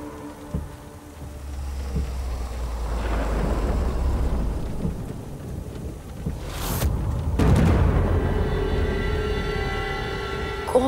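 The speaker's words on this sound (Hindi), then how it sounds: "इतनी बारिश हो रही है" Heavy rain with rolling thunder, a continuous loud downpour with deep low rumbles swelling and fading, plus a sharp crack partway through.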